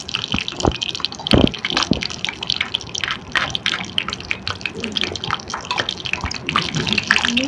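Cashew nuts fry in hot ghee in a pan while making sweet pongal, giving a steady crackling sizzle with scattered pops, close by and under a voice talking throughout.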